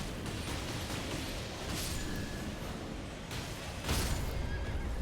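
Horse whinnying in the Elden Ring video game, a loud neigh over dense, noisy battle ambience with a heavy thump or burst near the end.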